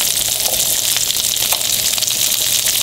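Oil sizzles steadily in a pan around yellowtail snapper fillets with cilantro, a close, continuous frying hiss with faint crackles throughout and no talking.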